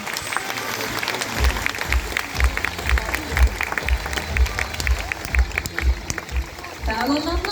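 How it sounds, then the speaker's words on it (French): An audience at a sea lion show at Beauval zoo claps steadily, a dense patter of many hands continuing for several seconds with a rhythmic thumping underneath, while a voice speaks near the end. "Et je pense qu'on peut applaudir bien fort Paco et Grace."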